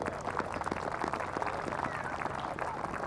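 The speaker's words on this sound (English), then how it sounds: "Let's give them a big round of applause as well." Crowd applause at a baseball and softball opening ceremony in Lead-Deadwood, a steady wash of many hands clapping at moderate distance, with faint voices mixed in.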